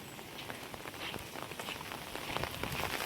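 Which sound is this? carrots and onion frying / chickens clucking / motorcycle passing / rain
rain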